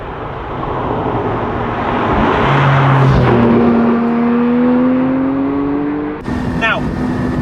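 A Porsche 718 Spyder with a 4-litre, 420 hp engine bored out from a 992 Carrera, heard from inside while driving, a steady engine drone rising in pitch as it accelerates, with a brief gear change near the end.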